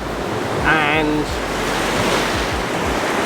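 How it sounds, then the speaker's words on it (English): Waves break on a sandy beach below a gentle slope, making a steady, broad wash of surf with a little wind. A voice briefly speaks over it. "I've got the waves breaking on the beach"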